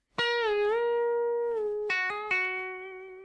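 Sustained electric guitar notes, pre-bent a whole tone, bend smoothly in pitch, followed by quick pull-off note changes that ring out and fade.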